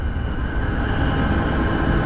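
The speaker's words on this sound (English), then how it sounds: "Try to slow down the train." A train rolls along in a video game, a dense, continuous rumble with a steady hum and rattling texture, heard alone without talk.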